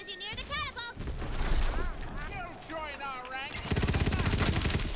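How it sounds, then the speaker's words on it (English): Rapid bursts of gunfire in the looter-shooter game Tiny Tina's Wonderlands, loudest in a dense rattling stretch at the end, mixed with game effects and a voice talking over parts of the clip. "Stop shooting me."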